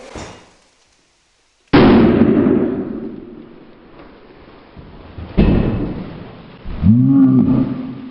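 A fermenting homemade kombucha bottle bursts open with a sudden loud pop and gush, followed by a second burst and fizzing spray, while people react with exclamations nearby.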